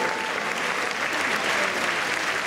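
A crowd applauds throughout a farewell show in Paris, producing a steady, dense wash of clapping with no breaks.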